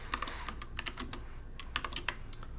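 Code typed on a computer keyboard, quick irregular runs of light clicking keystrokes with brief pauses, close but quiet.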